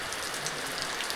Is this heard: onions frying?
no